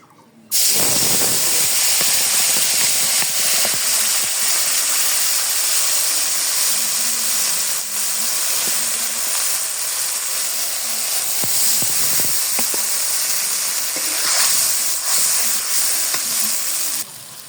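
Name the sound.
spiced pangas fish liver poured into hot pan, sizzling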